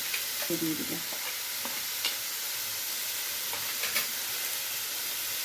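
Spiced soybean curry stirred in a pan, a steady sizzle with occasional scraping taps of a spatula, close but fairly soft, with no one speaking.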